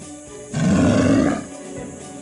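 A loud, close creature roar in the Divine Divinity video game, a deep growling burst lasting about a second over a low background hum.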